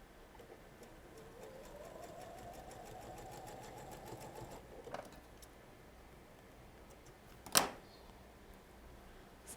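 A sewing machine runs quietly in a steady stitching burst of a few seconds while piecing quilt blocks, then stops, followed by a sharp click of handling.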